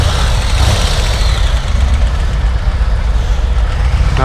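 A 2022 Harley-Davidson Road Glide ST motorcycle with a 117 V-twin idles loudly up close, a deep, steady rumbling throb filling the whole stretch without pause or speech.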